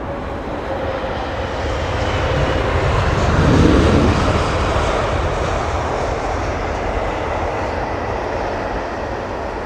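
Aircraft engines and auxiliary power units rumble at the gates of London Heathrow airport: a broad, loud, continuous roar that swells to a peak near the middle and then eases slightly, with no speech.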